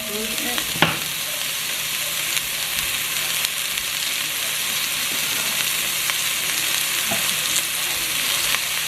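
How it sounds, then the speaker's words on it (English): Onions and celery fry in a tablespoon of oil in a pot, giving a steady, fairly loud sizzle throughout with a few sharp pops and clinks near the start and no talking. "Alright guys, we're going to add some onions and your celery"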